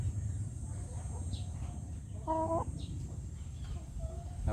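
A Brahma chicken clucks in a short harmonic burst midway, with a few softer calls around it, over a steady farmyard background hum.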